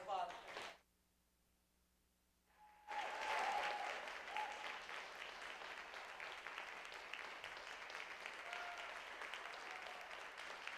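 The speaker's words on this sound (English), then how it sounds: "give them one more round of applause" An audience at a Christian conservatory recital bursts into applause after a brief near-silence, and the dense clapping then carries on steadily to the end.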